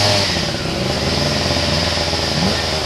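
A motorcycle engine revs steadily and loudly while stuck on a dirt trail in Doña Remedios Trinidad, Bulacan, holding a continuous close drone with no speech over it.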